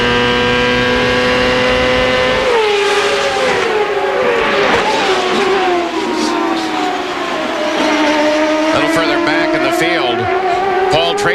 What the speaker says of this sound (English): He's downshifting when he's 2/3 of the way around the corner trying to baby that gearbox.